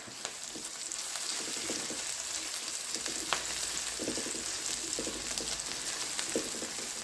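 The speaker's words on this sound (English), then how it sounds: "The next thing I'm going to add is some crushed garlic" Crushed garlic sizzles in a frying pan with a continuous fine hiss and crackle, close and steady, with occasional light scrapes and taps.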